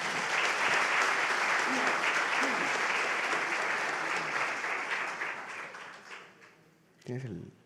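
An audience at a talk on health-system reform applauds the panelists, a loud, dense burst of clapping that gradually thins and fades, followed by a brief voice at the end.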